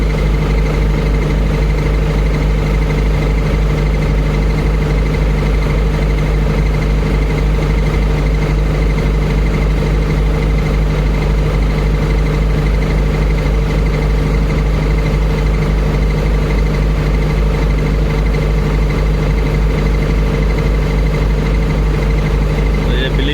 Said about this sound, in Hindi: 30 सेकंड के अंदर ये इंजन बंद हो जाएगा।